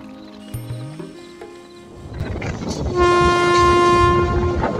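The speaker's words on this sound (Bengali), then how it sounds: "এই যে আমার ট্রেন ঢুকছে জিয়াগঞ্জ এখন" The Hazarduari Express pulling into Jiaganj station in Murshidabad, West Bengal, first with soft creaks and a faint squeal, then a loud, sustained horn blast over rumbling wheels as the train comes close.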